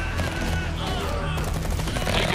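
Gunfire rattles through a Tempest Rising battle in rapid, overlapping bursts, steady and dense across the whole stretch with a thick low-end rumble beneath.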